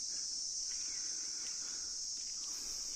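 Crickets chirp in a continuous, steady high drone at a rural homestay in Ichhegaon, with faint scattered rustles beneath and no one talking.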